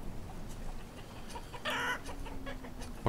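Chickens cluck in the farming city-builder game Banished, a short burst of fowl calls rising over low, steady background ambience, with a faint sustained tone beneath and scattered soft clicks.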